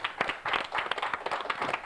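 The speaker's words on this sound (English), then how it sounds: "They deserve a big round of applause." A studio audience at the Long Beach Centennial Challenge Bowl quiz show claps in a steady dense patter, many hands blending into continuous applause at moderate volume, with no voices standing out.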